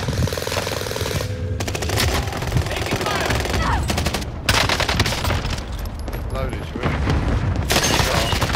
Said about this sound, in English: Allied cluster strike arriving.